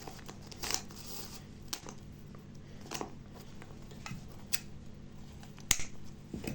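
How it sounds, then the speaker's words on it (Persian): Scissors snip knitting yarn on a knitted bag, with a few quiet, sharp clicks spaced apart against faint handling noise. "بعد نختون رو قیچی میکنین."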